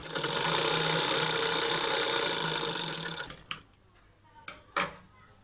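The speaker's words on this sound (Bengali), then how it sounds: "সেলাইটাকে ডাবল করে দিয়ে দিব" A sewing machine runs a loud, continuous stitch along a hidden pocket in a salwar, then stops abruptly, followed by a few sharp clicks and handling knocks.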